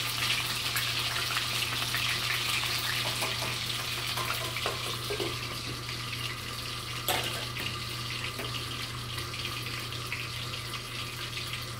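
Milkfish (bangus) dusted in flour frying in oil in a home kitchen, a dense, steady crackle and hiss lasting throughout, with a few sharper pops and a constant low hum beneath, no voices.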